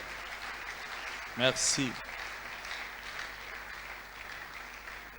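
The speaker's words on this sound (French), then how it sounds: "j'aimerais que nous disions merci au pasteur Michel d'une façon particulière en acclamant" A church congregation applauding their pastor: steady broadband clapping throughout, with a voice briefly speaking over it near the start.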